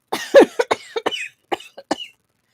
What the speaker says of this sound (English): Chubuchu coughed violently